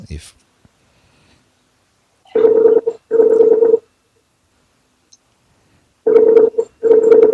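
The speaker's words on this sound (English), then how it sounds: "Let's see what Brent's got in his voicemail." A phone call rings through toward voicemail: four buzzing ringback tones in two pairs, each separated by silence, clear and fairly loud.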